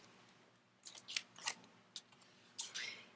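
Scissors snipping through paper to cut apart stencil masks for handmade poppy cards, several quiet, close, irregular crisp snips spread over a few seconds against a faint background hiss.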